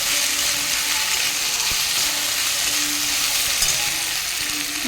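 Ginger-garlic paste fries in a pan with a steady, bright sizzling hiss, a few faint clinks and stirring touches underneath, and no voices.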